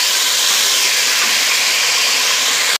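Goat trotters hit a hot pot of oil with ginger, cinnamon and black cardamom, giving a loud, continuous hissing sizzle that holds steady, then cuts off abruptly at the end.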